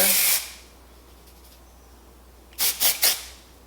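A spray bottle gives one longer hiss, then after a pause three quick short spritzes in a row, close by.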